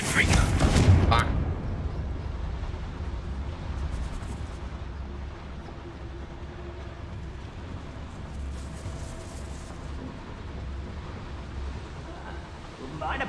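A Confringo fire spell in Hogwarts Legacy bursts in one loud, sharp blast at the start, then fades into a low rumbling aftermath while a voice talks.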